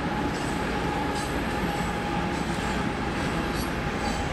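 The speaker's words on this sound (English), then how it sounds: "We got the train in the back. Look at the train." A train rolls past somewhere in Mexico as a steady, broadband rumble that holds at an even loudness throughout, with no talk.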